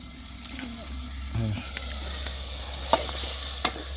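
Spices sautéing in oil in a home kitchen, giving a steady low sizzle with the occasional stir and scrape of a utensil beneath a person talking.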